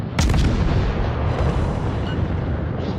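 A warship chain gun in World of Warships, on a German tier I cruiser, Hermelin, opens with a sharp crack that rolls into a booming, rumbling roar of fire, sustained and loud with no talking.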